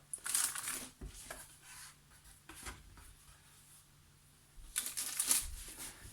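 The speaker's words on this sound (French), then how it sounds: "Là je prends un torchon et je recouvre." Soft cloth rustles and crinkles as a tea towel is draped over Swiss chocolate brioche dough, two brushing bursts at the start and end with quieter rubbing between, close by with no talk.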